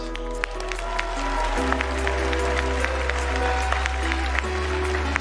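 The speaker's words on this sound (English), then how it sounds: "Please give them a huge round of applause." An audience at a cosplay contest claps in a steady round of applause over a constant low hum.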